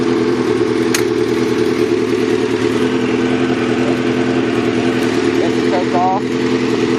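Motorcycle engine idling nearby, a loud steady low rumble that runs the whole time, with a few brief higher tones near the end.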